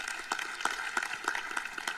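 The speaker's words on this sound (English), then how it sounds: "Another round of applause for Dr. Sodhi, please." Applause from a plenary session audience, a soft, fairly quiet patter of many hands with a few sharper claps recurring at roughly regular intervals over two seconds.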